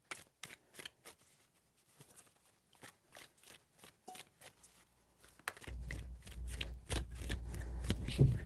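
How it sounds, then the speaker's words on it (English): Tarot cards are shuffled in quick riffling bursts, a series of crisp flutters close by, growing busier and more continuous toward the end. "3 shuffles"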